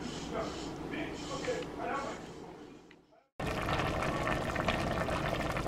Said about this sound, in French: On ferme et on va laisser bouillir